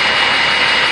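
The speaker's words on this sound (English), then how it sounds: "This engine is firing on all 6 cylinders." A six-cylinder car engine idles normally, producing a loud, steady, even roar that holds without change through the brief moment, with no voices.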